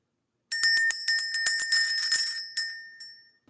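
A small bright bell is rung in quick repeated strikes, about a dozen sharp rings in a steady rhythm, then one final strike left to ring out and fade, loud and close with no talking.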